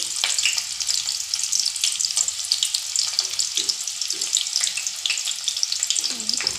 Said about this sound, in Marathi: शिरे आणि मोहरी होत आलेली आहेत यामध्ये मी कांदा टाकून घेते